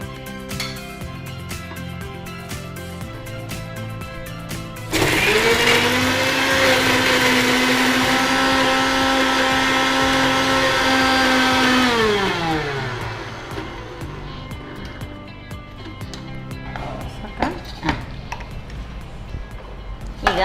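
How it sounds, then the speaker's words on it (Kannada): A mixer grinder grinds masala with a little water for a home cooking show, starting abruptly with a loud steady whir that holds for about seven seconds, then winds down to a stop. "ಸ್ವಲ್ಪ ಹನಿಯಷ್ಟು ನೀರು ಹಾಕಿ ಗ್ರೈಂಡ್ ಮಾಡ್ಕೊಳ್ಳೋಣ"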